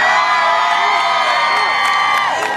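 A crowd of homeschoolers screams, whoops and cheers together at an outdoor Tea Party rally at LaFortune Park in Tulsa, a steady loud roar with individual shrill yells rising above it.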